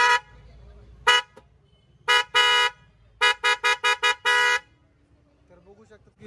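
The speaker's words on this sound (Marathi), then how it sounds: "सर तो हॉर्न देख सकते क्रेटा के जैसा है" A Creta-style aftermarket horn fitted to a 2022 Maruti Celerio CNG sounds in loud, bright bursts close by: one short honk, then a pair, then a rapid run of five with a longer blast, over a quiet background.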